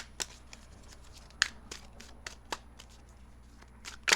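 Tarot cards being shuffled and drawn, heard as sparse, crisp card snaps and flicks at irregular intervals, close and fairly quiet over a soft background hum.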